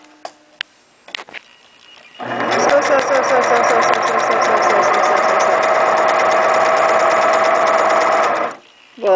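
A domestic sewing machine runs steadily for about six seconds with a fast, even buzzing whir, close and loud, after a few clicks and knocks at the start, then stops abruptly.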